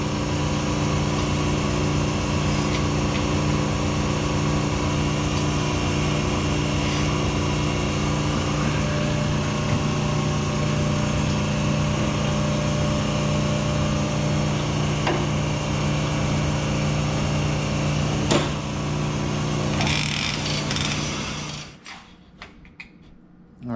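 A honing machine works a 302 Ford engine block, giving a steady, loud mechanical drone with a constant hum and grinding hiss that runs unbroken for about twenty seconds before cutting off into quiet clatter.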